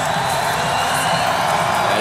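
A Seattle football crowd at a Legends Football League game cheers in a steady, loud roar that fills the whole moment without letup.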